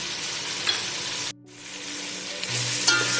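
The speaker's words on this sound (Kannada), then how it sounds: "ಶುಂಠಿ ಬೆಳ್ಳುಳ್ಳಿ ಪೇಸ್ಟ್ ಹಾಕಿದ್ಮೇಲೆ 2 ನಿಮಿಷ ಫ್ರೈ ಮಾಡಿದ್ದೀನಿ" Onion with ginger-garlic paste frying in a pan gives a dense, steady sizzle up close, with a brief dropout partway through before the crackling resumes, a little louder than before.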